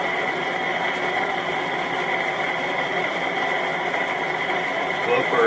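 A homemade dual rotor pulse motor with a magnetic coupling runs continuously with a steady, even mechanical whir and hum, close by, while people talk over it.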